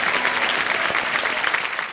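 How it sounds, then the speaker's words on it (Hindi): Studio audience applause welcoming a contestant on the quiz show KBC, a dense steady wash of many hands clapping throughout, loud and continuous with no talking. "तालियां बजाएं इनके स्वागत के लिए।"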